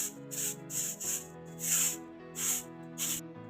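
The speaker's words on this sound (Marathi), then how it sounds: "ते झाडू मारून घेते आता" Broom sweeping outdoors during a backyard cleanup: a series of about seven rhythmic, brushing swishes, close and moderately loud over a faint background hum.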